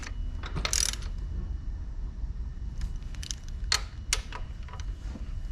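A hand ratchet clicks in short, scattered bursts while snugging bolts on a Yamaha 225 SHO outboard motor, close and fairly quiet with no talking.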